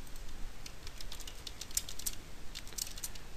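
A computer keyboard clatters with quick, irregular keystrokes in short bursts, close and clear against a quiet room, with no talking.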